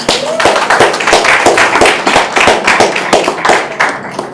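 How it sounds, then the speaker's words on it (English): An audience applauds itself at a gathering, a short burst of close, fairly loud clapping with distinct individual claps and a brief voice near the start. "Can we give ourselves a round of applause?"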